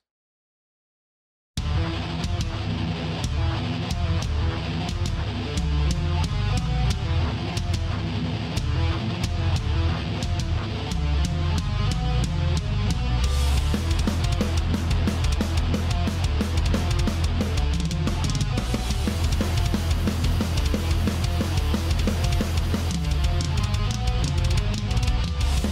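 A rock riff sequenced in Cubasis on an iPad plays loud and continuous, with distorted guitar, bass and driving drums with fills, mixed and processed, after a short silent lead-in.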